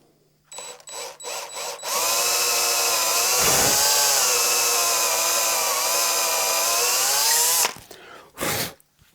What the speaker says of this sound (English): And drill the other one in.